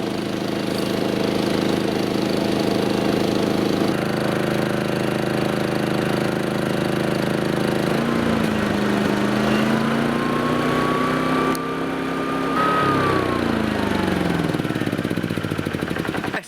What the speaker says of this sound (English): that's the Yamaha running under load